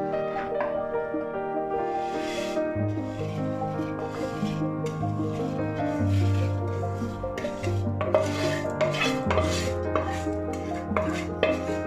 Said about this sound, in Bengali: চিড়েটা আমি এখানে দুধের সাথে মিক্স করে নিচ্ছি।